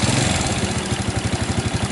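Yamaha Jupiter motorcycle engine, recently rebuilt, with oil not reaching the top end, idling up close with a loud, fast, even thumping pulse and a rattly mechanical clatter over it.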